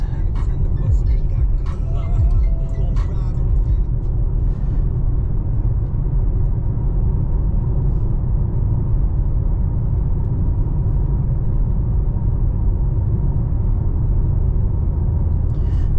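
A BMW G80 M3 Competition running on E85 cruises at night with a steady, loud low rumble from the road and engine, some brief faint voices and clatter near the start.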